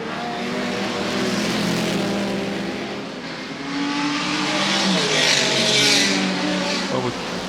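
Historic racing cars from the Goodwood Revival roar along the circuit in a close pack, engines loud and sustained with rising and falling revs as several pass, a commentator's voice running over the top.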